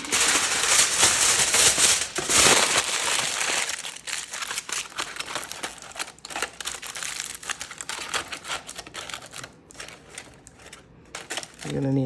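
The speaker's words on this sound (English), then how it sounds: "you're going to take some aluminum foil, and just to hold the tumbler in place." Aluminum foil being crumpled and wrapped around a tumbler to hold it in place, loud dense crinkling close up for the first few seconds, then fainter intermittent crackles and rustles, with a voice speaking over it.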